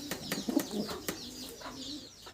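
Pigeons in a fancy-breed loft coo softly in low murmuring bursts, with faint chirps and sharp clicks scattered over about two seconds at moderate distance.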